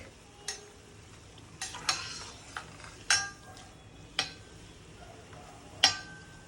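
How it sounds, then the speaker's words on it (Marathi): Shev deep-frying in hot oil sizzles softly beneath sharp metallic clinks and scrapes of a utensil against the pan, spaced irregularly about every second. "लालसर होईपर्यंत आपल्याला हे शेव तळून घ्यायचे आहेत"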